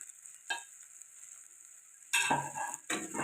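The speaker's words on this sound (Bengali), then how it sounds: "এরপর এই মশলাগুলো আর একটু কষিয়ে নেবো যাতে মশলার কাঁচা গন্ধ না থাকে" Ground chilli, Kashmiri chilli, cumin and black pepper powders are sautéed in oil for a soybean korma, heard as faint sizzling with a few brief stirring scrapes, louder toward the end.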